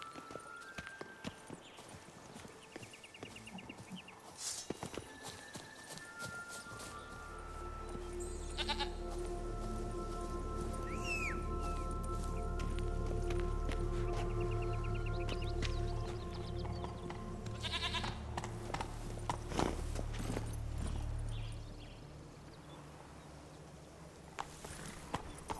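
Hooves of Roach, a horse in The Witcher 3, clop steadily over rough ground through a long stretch, with a low droning score and scattered game effects layered on top.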